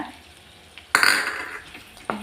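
Spice powder stirred and sautéed in butter with garlic in a pan for paneer butter masala, a sharp scrape and sizzle burst that fades out, then a brief clink at the end.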